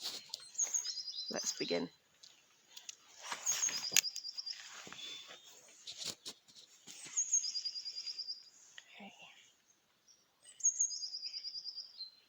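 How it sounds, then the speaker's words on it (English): A jackdaw chirrups from a tree on a bright morning: several repeated bursts of high, rapid chirping spaced across the stretch, alongside a person speaking. "There goes the jackdaw."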